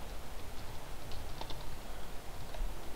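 Typing on a computer keyboard into a Word document, a fast continuous patter of soft key clicks with no talking, close and moderately quiet over a broad hiss.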